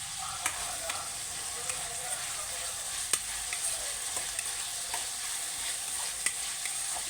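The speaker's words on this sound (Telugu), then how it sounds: "ఇలా అయితే వేయించుకోవాలి." Bitter gourd for a Telangana-style fry sizzles steadily in a pan while a spoon stirs it, scraping and tapping the pan now and then.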